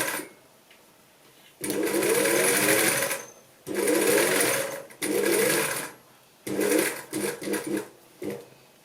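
A sewing machine stitches a straight seam joining a button placket, running in several loud close bursts separated by pauses, the last ones short and stuttering.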